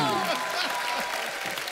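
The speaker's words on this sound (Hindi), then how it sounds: "सो जोरदार ताली" Studio audience of a Hindi comedy talk show claps loudly and steadily, a dense wash of applause with cheering voices mixed in.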